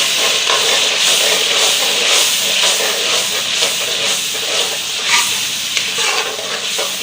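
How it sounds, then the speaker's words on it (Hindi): Lahori chana masala with yogurt being fried in a pan, a loud close hiss of sizzling with rhythmic scraping stirs throughout, no voices. "अब दही और इसको मसाले में ऐड करें। अब इसको भून लेंगे।"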